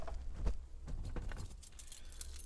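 A bunch of car keys jangles close by with bright metallic clinks and rattles, busiest in the first half and then settling into lighter jingling during work on a car's power window.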